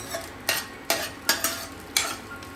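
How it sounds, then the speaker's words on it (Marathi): Cashew and almond pieces fry in hot ghee for carrot halwa with a steady soft sizzle, broken by five or six sharp scraping stirs of a spoon against the pan, close and alone. "याला आपण आता तुपात फ्राय करून घेतोय"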